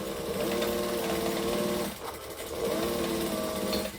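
A sewing machine stitches a curved seam on a garment, running in a steady rapid whirring rhythm for about two seconds, pausing briefly, then resuming; close and fairly quiet, with no talking.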